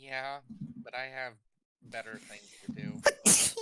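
A single loud, sharp sneeze bursts out near the end, after a stretch of close conversational speech from people talking just before it.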